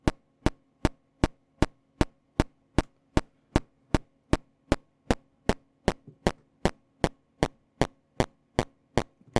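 Drum module giving a raspy sound: a steady train of sharp, identical clicks, roughly two per second, over a low faint hum, close and alone with no voices.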